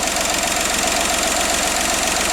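A Skoda Fabia engine idles somewhat loudly, giving a steady, dense mechanical drone with a faint knocking texture close to the listener and no talk over it.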